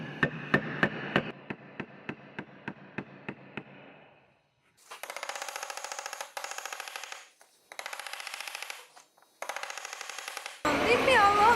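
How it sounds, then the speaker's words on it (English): A hammer drives a chisel into timber while a wood bench is built. About a dozen sharp, close knocks come in a quick run, followed by longer bursts of rougher noise. "We're going to take the chisel and the hammer"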